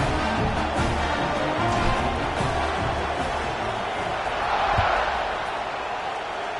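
A football stadium crowd roars steadily after a 77-yard touchdown drive as the kickoff unit takes the field, a broad, continuous wash of cheering and chatter with a few thuds, fairly loud throughout.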